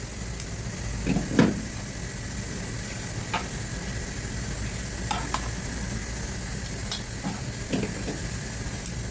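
Sotanghon noodles with vegetables sizzle steadily in a hot pan while being stirred, with occasional utensil clinks and scrapes over the continuous frying hiss.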